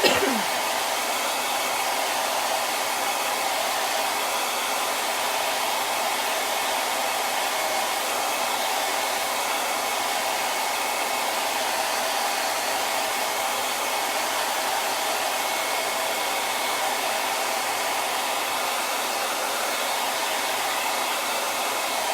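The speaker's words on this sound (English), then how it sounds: "So, probably need to blow dry this." A hair dryer blows on a painted 9x12 pallet sign, a loud, continuous airy whoosh that holds steady from start to finish with no talk over it.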